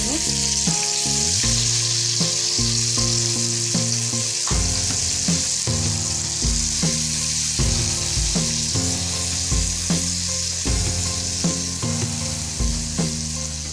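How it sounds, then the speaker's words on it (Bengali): Spice paste fries in oil alongside hilsa fish, giving a continuous loud sizzle with a bright hiss that runs throughout, punctuated by soft stirring knocks. "ভালো করে মশলার গোলাটা এই তেলের মধ্যে মিশিয়ে দেবো"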